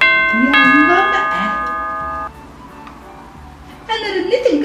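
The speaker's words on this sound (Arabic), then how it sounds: "انا رنيت الجرس" A two-tone doorbell chimes loudly indoors, its ringing tones fading away over about two seconds while children talk and shout excitedly over it and after it.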